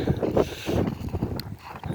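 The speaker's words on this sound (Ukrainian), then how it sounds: "Зараз йде хуртовина невеличка." Steady gusting wind of a light snowstorm roars and buffets across the whole stretch, broadband and rough, with bursts of noise rising and falling and no clear voices.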